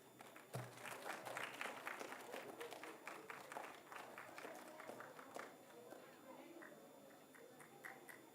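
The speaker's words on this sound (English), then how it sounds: "Please give them a warm round of applause." Audience applause at a school opening ceremony for a student dance performance, busy and mixed with crowd noise, footsteps and voices talking, steady but faint overall.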